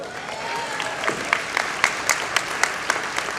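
Graduates at a college commencement ceremony break into broad, sustained applause filling a large hall, with a few louder individual claps standing out near the front.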